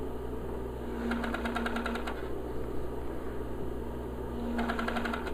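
A sewing machine stitches stretchy fabric onto elastic in two short bursts of rapid, quiet mechanical whirring over a low steady hum.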